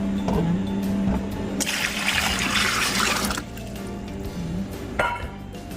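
Water is poured into a portable clear ice maker, a bright splashing stream that lasts a couple of seconds over a steady machine hum, then eases into quieter trickles and a light clink.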